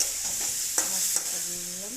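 Papaya stir-fried with ground spice masala in a pan, a steady sizzle with a few sharp scrapes of a spatula, close and alone.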